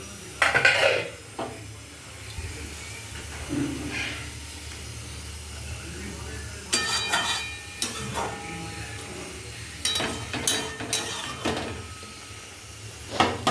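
Hilsa fish pieces go into a pan of simmering poppy seed paste in a village kitchen, bringing scattered clinks and knocks of utensils against the pan, irregular and close, with no voices.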